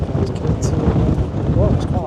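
Strong wind buffets a DJI Mic 2 microphone outdoors at Arnside, producing loud, continuous gusty rumble and crackle throughout.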